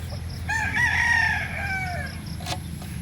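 A rooster crows once, a long drawn-out call rising and falling over a low background rumble.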